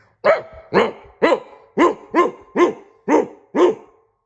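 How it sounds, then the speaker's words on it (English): A dog barks eight times in a steady, evenly spaced rhythm, close and loud, with no other sounds. "the dog burst in, barking and snapping"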